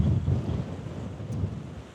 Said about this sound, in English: it's also very windy, so I've got no idea if you can hear me